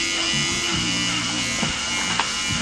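Electric hair clippers with a guard attachment trimming a man's hair, a steady close buzz with small shifts in pitch as the blades move through hair, running alone without talk.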